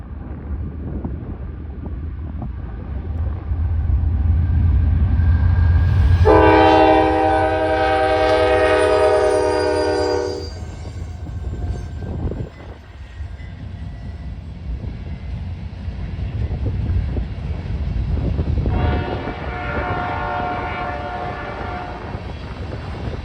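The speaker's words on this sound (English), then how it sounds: "westbound sand train with Canadian National Foreign Power 2nd and 3rd" A loud westbound freight sand train with Canadian National locomotives rumbles past close by in Alliance, Ohio, as its horn blares a long sustained blast, then sounds again more briefly as the rumble continues.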